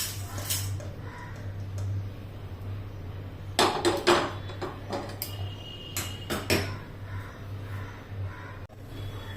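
Roasted masala for green pea kachori is scraped and tipped from a kadhai into a dish, with a few close metallic clinks and scrapes in bursts over a low steady hum.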